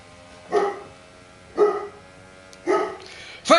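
A pet dog barks indoors in four separate, evenly spaced barks about a second apart, fairly close and loud against a quiet background.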